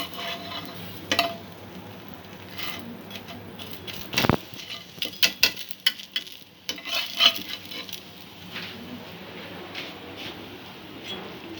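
Rava dosa frying in a covered pan, a low steady sizzle broken by clinks and knocks of utensils against the pan and lid, with a sharp clatter near the middle.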